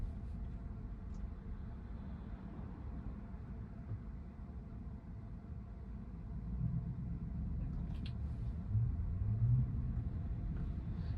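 A Tesla on Full Self-Driving creeps forward in city traffic, giving a steady low road rumble and tire noise that swells slightly near the end, with no talk over it.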